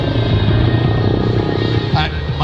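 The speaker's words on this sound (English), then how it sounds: "And watch that helicopter go upside down" A Red Bull helicopter flies aerobatics at the 2021 Pacific Airshow, its loud continuous rotor and engine roar filling the air while people talk over it.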